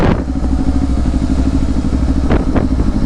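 A Kawasaki Ninja 500 SE motorcycle, a 2024 model, runs steadily near the listener, with two quick, sharp throttle blips near the end as the rider rev-matches a downshift.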